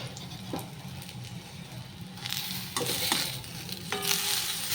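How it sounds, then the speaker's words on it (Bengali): Brinjal slices fry in oil in a kadai in a home kitchen while rice reheats nearby: a faint, low sizzle under kitchen hum, with a few clinks and scrapes of a utensil growing slightly louder toward the end. "আর এদিকে বেগুন ভাজছি"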